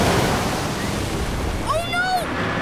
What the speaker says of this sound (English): The waves are getting closer!